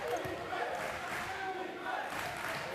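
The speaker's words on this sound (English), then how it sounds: "Crowd is getting into it now." Spectators at a men's college basketball conference tournament game roar and cheer in a steady, fairly distant wash of crowd noise, with scattered voices beneath it.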